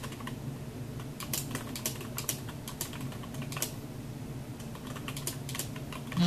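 Rapid, irregular keystrokes on a computer keyboard, close and crisp, in continuous bursts with a louder sound at the very end.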